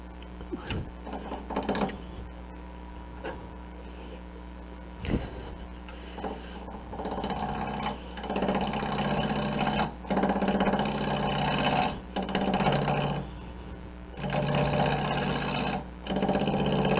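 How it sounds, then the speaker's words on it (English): A wood lathe hums at low speed, then bursts of louder whirring and turning noise rise and fall in repeated stretches as the speed is turned up, with occasional clunks near the start. "And then start with the lathe low on speed and then turn it up."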